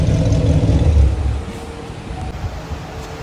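A car engine roars loudly as it accelerates past, then the sound drops away to a lower, fading rumble.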